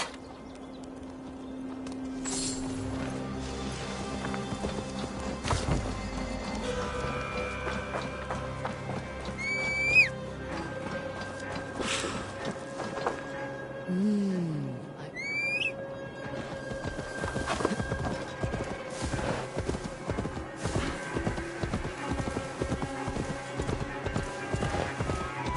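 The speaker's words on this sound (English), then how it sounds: "Now to deliver Magni his horse." A horse in Assassin's Creed Valhalla walks while being led: steady, close clip-clop of hooves that grows more regular and rhythmic toward the end, with a couple of neighs and bird chirps over a quiet ambient music bed.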